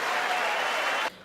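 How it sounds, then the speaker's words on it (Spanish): Loud, dense applause from a large audience in the chamber of Congress during a speech, sustained for about a second and then cutting off abruptly. "Un discurso lleno de ovaciones y también hubo abucheos."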